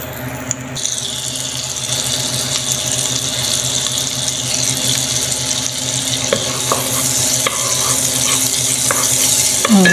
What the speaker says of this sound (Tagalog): Mainit na yung ating pan. So, lagyan na natin siya ng olive oil at lalagyan natin siya ng maliit na hiwa ng butter.